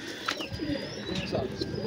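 A female pigeon coos close by, soft low throaty calls repeated a few times over a quiet background.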